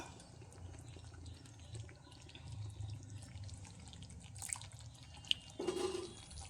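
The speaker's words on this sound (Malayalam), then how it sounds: "ഇനി നമുക്കിതിലേക്ക് 1 സ്പൂൺ വിനീഗർ ചേർത്ത് കൊടുക്കാം" A spoonful of vinegar goes into a homemade country-style pickle simmering in its thickening gravy. A low, steady bubbling carries throughout, with a short liquid splash and trickle near the end.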